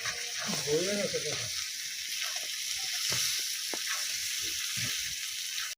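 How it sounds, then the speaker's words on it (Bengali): Meat being sautéed with spices in a pan, a soft steady sizzle with occasional stirring scrapes, and a brief voice speaking near the start. "মাংস কষানো প্রায় হয়ে গেছে আর একটু কষাবো"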